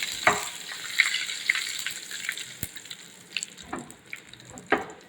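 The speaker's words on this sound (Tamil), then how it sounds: "இப்போ பாருங்கள், நல்லா கடுகு பொரியுது." Mustard seeds splutter and pop in hot oil with curry leaves and two dried red chillies over a low gas flame, giving a soft steady sizzle broken by scattered sharp crackles, close by and with no talking.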